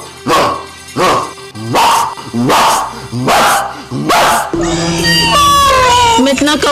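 A person imitates a big dog with six loud, hoarse vocal barks at a regular pace, then breaks into excited crying voices.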